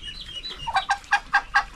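A hen clucks close by in a quick run of five or six sharp, evenly spaced clucks after a softer start, loud and alone without talk.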